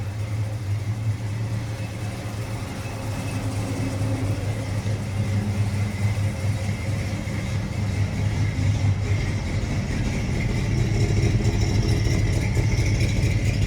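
An old truck engine idles steadily with a low, rough rumble that grows slightly louder near the end.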